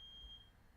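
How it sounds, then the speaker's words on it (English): A smoke alarm sounds while a roommate cooks, giving a single sustained high-pitched beep that cuts off partway through, fairly faint and set against a quiet indoor room with no speech. "Well, at least we know the smoke alarms work."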